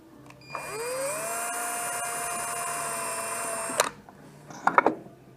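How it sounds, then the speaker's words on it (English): A power drill boring holes in shock mounts on a lux axle setup, a whining motor spinning up, holding a steady high pitch for about three seconds, then stopping, followed by brief clatter. "Just drill your holes where they should be."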